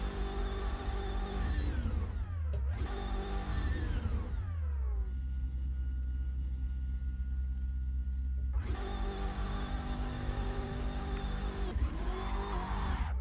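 A racing car in the Assetto Corsa video game revs loudly through rising gear sweeps, drops to a steady idle drone, then roars again, with squealing tires during hard driving. No one talks.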